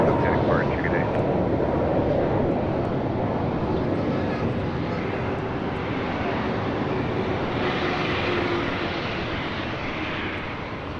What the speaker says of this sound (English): A350 now crossing over 25 right.